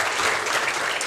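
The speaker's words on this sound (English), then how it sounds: "And a round of applause for Yvonne for sharing there." An audience at a lecture gives a round of applause, a dense, steady patter of many hands clapping at moderate volume throughout the short moment.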